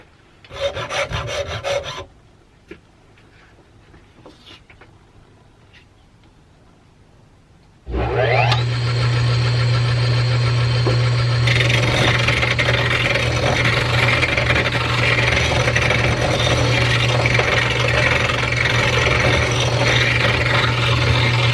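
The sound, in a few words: saw rasp filing wood on a 1950s Sears wood lathe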